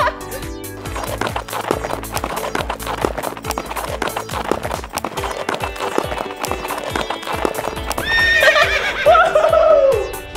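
Galloping hooves clip-clop in a fast, loud, steady rhythm, followed near the end by a horse's high neigh, a sound effect played up close.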